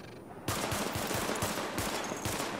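Sidearm gunfire at highlighted targets in The Division, where a burst of rapid, sharp pistol shots suddenly starts after a quiet moment and keeps up in quick succession until the end.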